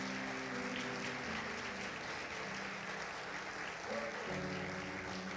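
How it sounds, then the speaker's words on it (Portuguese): A church congregation applauds during a worship service, a soft steady wash of clapping with sustained organ or keyboard chords underneath throughout. "Você pode aplaudir o Senhor por isso?"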